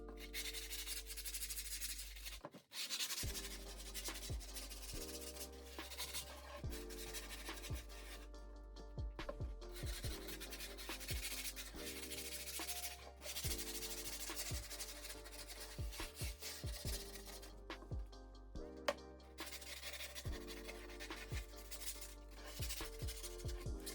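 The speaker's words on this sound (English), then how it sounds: "so let me sand this down" Sanding a skateboard deck by hand, close scraping and rubbing strokes in an uneven rhythm with brief pauses between passes, and no one speaking.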